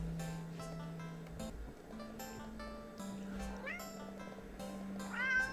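Cat meowing in a video game, several rising meows over a steady low hum and game music, a longer drawn-out meow near the end, with a person talking.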